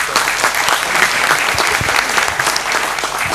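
A seated audience at a residential housing course on RERA and redevelopment applauds, dense steady clapping sustained at even loudness throughout without talk.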